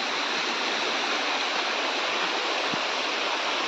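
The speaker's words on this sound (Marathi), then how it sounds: "इकडे धबधबा आहे, वरून येतोय." A small waterfall spilling down rock in a dense Konkan forest near Sangameshwar, a constant, loud, even rush of falling water with no pauses, heard up close.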